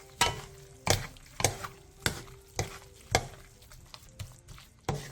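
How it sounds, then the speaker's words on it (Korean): Doenjang, perilla seed powder, mushroom powder and minced garlic stir-fried in a pan, with regular scraping strokes of a spatula roughly every half second over a soft sizzle, close and clear with no talking. "된장 3분의 1스푼, 들깨가루 2스푼, 버섯가루 반스푼, 다진 마늘 반스푼을 넣고 2분 정도 골고루 볶아주세요."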